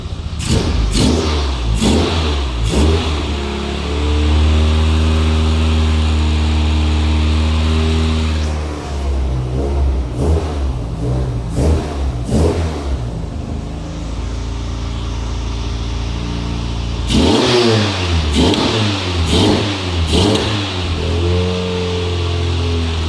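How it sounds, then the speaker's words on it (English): Car engine, running on roughly year-old fuel, idles with a deep, steady note, then snaps through a series of sharp, close revs, blipping repeatedly before settling and revving again. "I'll give it a quick rev."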